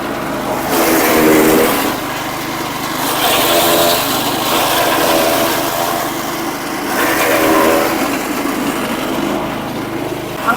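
A chaff cutter shredder machine runs steadily, its engine droning loudly with a continuous mechanical roar that rises and dips in waves as material is fed through, with no voices.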